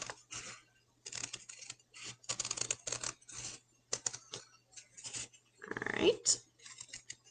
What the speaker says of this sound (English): now we're going to go ahead and cut out our little fishies